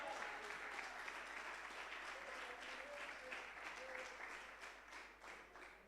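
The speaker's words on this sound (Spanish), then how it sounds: "Ese aplauso de alabanza para el Señor" A church congregation applauds in praise during a Spanish-language sermon, a soft, steady wash of clapping heard at a distance with a faint voice beneath it.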